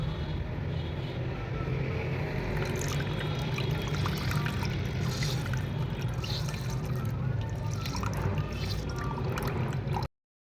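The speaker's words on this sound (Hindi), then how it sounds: "इस पानी को भी हम अच्छी तरह स्ट्रेन कर लेंगे।" Continuous wet trickling and dribbling of water seeping through a cloth while straining homemade rasmalai batter, steady and close, with faint clinks in the background.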